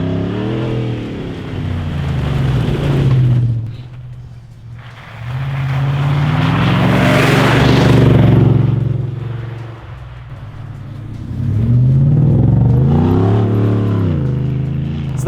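A 2015–2019 Ford F150 with a 5.0L V8 and an MBRP 3-inch single-exit cat-back exhaust revs loudly in three separate pulls, each one rising and then falling back, with short pauses between them and no talking.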